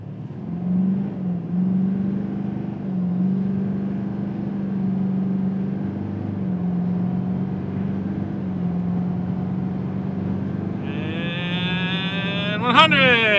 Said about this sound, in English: We're gonna do our 0 to 100 kilometer an hour test.